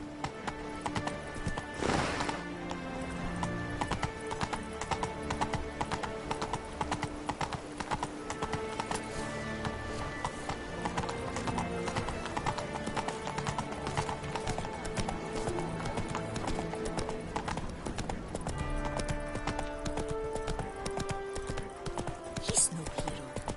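A horse gallops in the video game The Witcher 3, steady rapid clip-clop hoofbeats with a neigh near the start, mixed with game music and speech.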